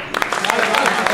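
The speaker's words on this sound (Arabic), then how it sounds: "براف براف، صفقوا" A small group claps in quick, scattered bursts, close and moderately loud, mixed with people talking over it during a crystal maze challenge.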